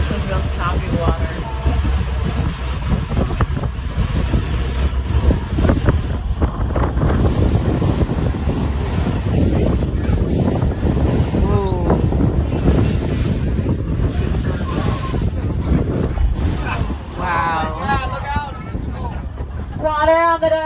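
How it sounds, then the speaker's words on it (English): Choppy ocean water slapping and splashing against a boat on a windy aquarium boat ride off Clearwater, with constant wind buffeting the microphone and people talking over it throughout. "This is real choppy water."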